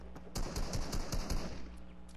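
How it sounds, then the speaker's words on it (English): Rapid bursts of automatic gunfire in a shooting video game near a pond ring out at moderate distance, with several quick shots in succession and no talk. "They were shooting at somebody, I don't know who."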